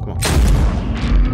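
Gunfire in a non-horror video game: a loud booming shot hits sharply near the start, followed by a rumbling tail and lingering low game noise.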